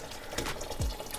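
Liquid slowly poured into a pot for Instant Pot menudo roja with pig's feet, a short soft splash and trickle heard up close and quiet.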